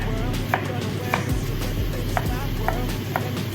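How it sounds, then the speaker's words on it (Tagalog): Onion, garlic and green onion are chopped on a board in a kitchen, with a string of short knife taps over a low background hum, close and moderately loud. "we're going to chop the onion, garlic,"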